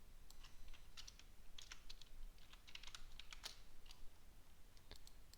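Typing on a computer keyboard: rapid, irregular clusters of light key clicks, quiet and close, continuing steadily with no speech.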